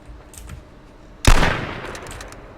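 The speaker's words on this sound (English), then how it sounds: "Hardwood firing some sniper." A sniper rifle fires once in a video game match, a sharp loud crack with a decaying tail after some faint clicks and a quiet background.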